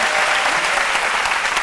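A television talk-show studio audience applauds loudly, a thick, continuous wash of clapping that holds at full strength from start to finish with no voices on top.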